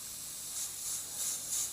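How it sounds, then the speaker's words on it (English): An airbrush sprays thinned paint at lowered pressure, giving a steady soft airy hiss with slight pulsing swells, close and alone. "you'll get it to where the brush is spraying it really nice and close"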